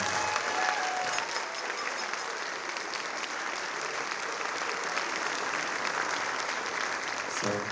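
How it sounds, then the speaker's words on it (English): An audience at a high school concert band and wind symphony concert claps for an incoming band director, sustained dense applause from a large crowd filling the hall from start to finish. "So clap for David."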